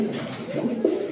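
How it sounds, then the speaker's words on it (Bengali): A male racing pigeon coos close by in a soft, low, rolling burble over about a second, with no talking. "দেখছেন ভাই কি ডাকতেছে ভাই, এটা নর"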